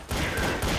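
Rapid burst of video game gunfire from Counter-Strike: Source, a dense loud volley lasting under a second with no voices over it.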